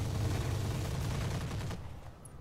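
Rapid machine gun fire in the tactical shooter Roguepoint, a fairly faint, continuous rattle of shots that cuts off near the end.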